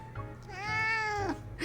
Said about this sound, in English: After a brief rest, an orange tabby cat approaches, holding a promotional flyer